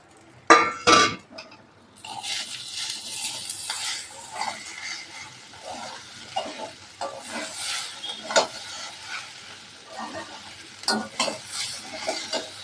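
Red fried dalia with a fried egg being stirred in a frying pan, a utensil scraping and clinking against the metal in irregular strokes over a steady low sizzle, close and clear, with no talking.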